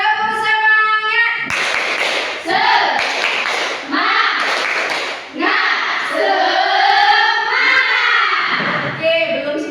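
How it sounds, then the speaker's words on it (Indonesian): A classroom group performs a rhythmic spirit clap, sharp hand claps in quick patterns mixed with loud chanting voices, repeated across the whole stretch. "Tepuk semangat."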